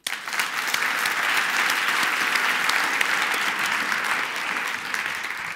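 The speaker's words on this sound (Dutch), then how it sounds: "Dus nogmaals een applaus." Audience applause at a talk fills the room, dense and steady from start to finish, a broad wash of many hands clapping at close range with no voices on top.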